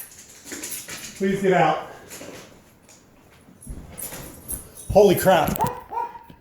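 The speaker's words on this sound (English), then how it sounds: "Dogs are freaking out." Dogs inside a house whimper and give short yips and barks at a bird flying indoors, coming in excited bursts while a person speaks over them.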